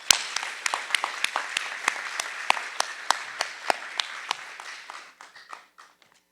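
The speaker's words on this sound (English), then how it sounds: "Let's give him a round of applause" Sparse applause at an awards ceremony, individual claps distinct and irregular, thinning out toward the end.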